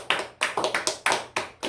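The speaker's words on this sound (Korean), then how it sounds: "박수 한번 칩시다." A church congregation gives a short round of applause, the claps coming as distinct, fairly sparse slaps with roughly even spacing and no voices over them.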